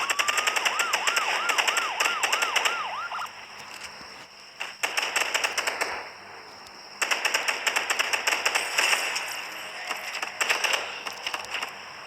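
Rapid machine-gun fire rattles in long sustained bursts in Gangstar New Orleans, with a police siren yelping briefly at the start and short pauses between volleys.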